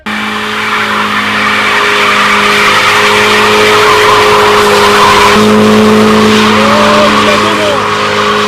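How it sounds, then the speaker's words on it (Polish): A BMW does a burnout at an illegal street race in Kraków, revving hard with a steady engine drone while its tires squeal continuously, loud and fairly close, holding for several seconds. "za mną w tle kapcia pali BMW jedyneczka"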